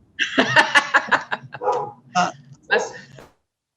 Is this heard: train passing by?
no